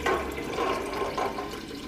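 Chicken broth poured from a quart container into a pot of homemade chicken noodle soup, a steady splashing liquid pour lasting about two seconds, close and moderately loud.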